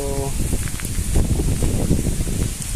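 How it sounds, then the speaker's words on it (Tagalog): Strong wind buffets the microphone outdoors in the Philippines with a rough, continuous roar and gusty surges, and a brief voice sounds at the very start. "nalakas na naman ang hangin"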